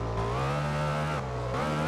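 Racing motorcycle engine from the MotoGP 15 video game, a loud, steady buzzing whine that rises in pitch as it accelerates, dips briefly around a gear change, then climbs again, with no talk over it.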